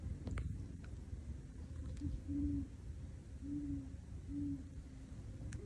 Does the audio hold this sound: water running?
no